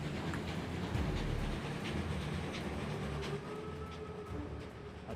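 A train sound effect plays as a livestream alert during a Fallout 4 stream. A steady, fairly loud rumble of rolling rail cars carries faint clickety-clack throughout, with no voices.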